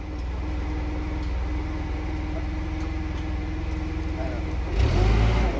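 A Toyota forklift repaired after a blown SFT fuse and solenoid fault, its engine humming steadily at close range as it is put in reverse, rising to a louder surge near the end, with someone talking over it.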